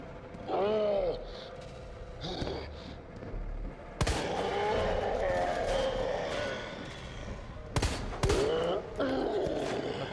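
Grenade launcher fire during a boss fight in the video game Resident Evil 2, with sharp, loud blasts and bursts amid game noise and monster groans, under a player's talking.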